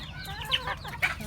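Chickens and roosters on a poultry farm cluck in a few short bursts, fairly close but quiet, over a low background hum.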